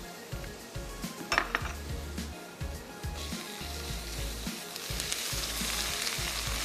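Spices such as crushed roasted cumin and garam masala sizzle in a hot pan for a Hyderabadi paratha, a steady frying hiss that swells toward the end, broken by spoon clinks and scrapes against the metal.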